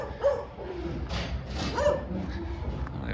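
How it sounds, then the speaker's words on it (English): A dog barks two clear times, close by and outdoors, with short yips and whimpering sounds between them over low background rumble. "I'll go kick that dog and tell her to go home"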